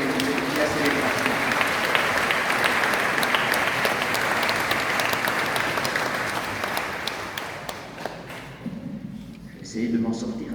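A church congregation applauds during an investiture mass for a new parish priest in Gerp. Loud, sustained clapping from a large crowd continues for over eight seconds before fading into a nearby voice.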